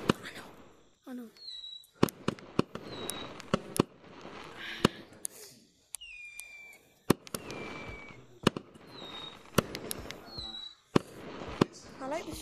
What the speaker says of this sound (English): I like these fireworks.